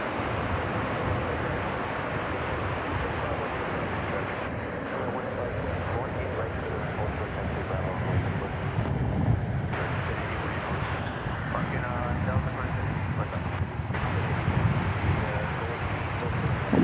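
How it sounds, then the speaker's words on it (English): A Boeing Dreamliner airliner turns on the ground at DFW airport, its engines giving a loud, steady roaring whine heard from a distance through the whole stretch with no one talking. "here's the Dreamliner making the big turn as it prepares for its flight to Sao"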